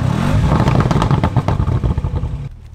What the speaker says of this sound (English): It's a 4-litre V8 twin turbo, pretty much a similar engine to the RS6